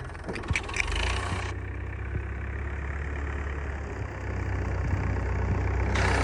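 A steady low tractor engine idles at close range, a continuous rumbling drone with a brief burst of higher noise near the start.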